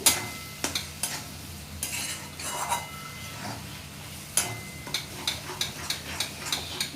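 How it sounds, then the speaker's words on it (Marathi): Beaten eggs frying for egg bhurji are stirred in a pan, giving scattered spatula scrapes and clinks over a quiet sizzle, with a run of quick taps near the end; no one talks. "अंडी फोडून घ्यायची आहेत अशी हलवून आणि सर्व एक जीव करायचे आहेत व्यवस्थित परतून घ्यायचं आहे"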